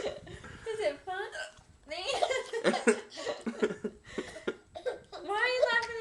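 A mother and young child both with hiccups: sharp hiccup bursts mixed with chuckling and speech, close and fairly loud.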